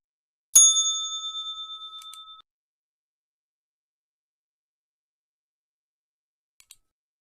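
A single bright bell strike rings out clearly and decays over about two seconds, marking the end of a show, with a faint tiny clink near the end and no talk.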